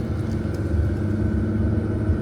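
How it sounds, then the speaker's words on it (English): A classic Mercedes engine growls steadily from inside the car as it drives, a low, even rumble heard on its own. "You can feel the growl, the engine has plenty torque, and it moves, it gets going"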